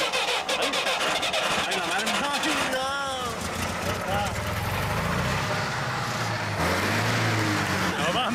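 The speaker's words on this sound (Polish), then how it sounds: "Silnik odpalił." A car engine in Mongolia cranks and catches, then settles into a steady running rumble, close by, with people talking over it.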